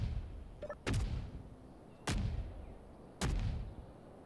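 Space Engineers autocannon turret firing in the Xbox game: three heavy, booming shots spaced roughly a second apart, each with a sharp crack and a low rumbling decay, loud and close.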